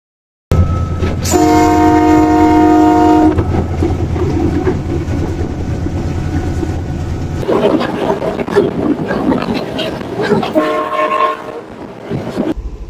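Sri Lanka's Udaya Devi diesel train engine rumbles loudly up close, its horn blaring in a long blast followed later by a shorter one over the steady engine roar and rattling.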